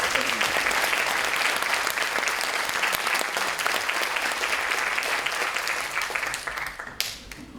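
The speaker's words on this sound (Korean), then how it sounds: "큰 박수 부탁드립니다" A large audience at a symposium applauds steadily for about seven seconds, a dense and even wash of clapping that thins out and fades near the end.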